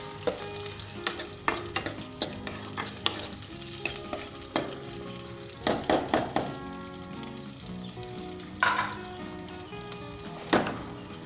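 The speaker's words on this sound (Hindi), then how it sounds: "मीडियम हीट के ऊपर इसे करेंगे। कच्चापन इसका दूर करेंगे, लहसुन का और अदरक का।" Garlic and ginger frying in a pan over medium heat, a continuous close sizzle broken by repeated scraping and knocking stirs, loud with no talking.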